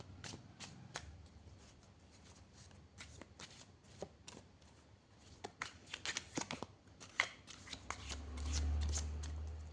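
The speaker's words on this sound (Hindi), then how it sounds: "तो अब हम कार्ड शफल कर रहे हैं पाइल 3 वालों के लिए।" Tarot cards are shuffled by hand close up in quick bursts of crisp riffling and flicking, with short pauses between the runs and a low thump near the end.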